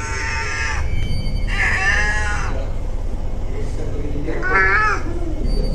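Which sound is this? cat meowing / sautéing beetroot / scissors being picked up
cat meowing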